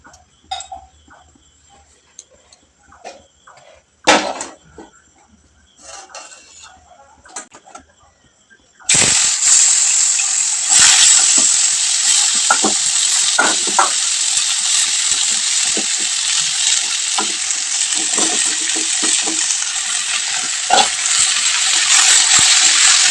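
Potatoes for chowmein start frying in a pan: after several seconds of quiet handling clicks and taps, a loud, constant hiss and sizzle bursts in and carries on steadily to the end.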